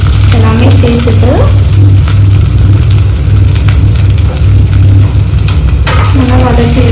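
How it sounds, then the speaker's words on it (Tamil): Mustard seeds, green chillies, garlic and ginger fry in hot oil with a loud, steady sizzle and crackle, close up and continuous, while a low hum runs underneath. "ஆயில் நல்லா ஹீட் ஆகிடுச்சு. இப்போ நம்ம கடுகு சேர்த்துக்கோங்க."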